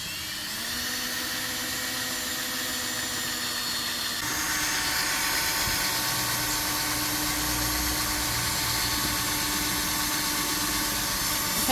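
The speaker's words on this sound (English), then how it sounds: "So put it into the drill and let's give it a try." A power drill drives a cutter made from a converted shovel scoop to bore a circular hole. It gives a steady whirring grind that grows louder and rougher partway through and continues without pause.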